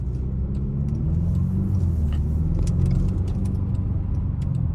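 A 2025 Jaguar F-PACE R-Dynamic S cruises in dynamic mode, its engine and road noise forming a steady low rumble from inside the cabin, with faint jingling on top and no talking.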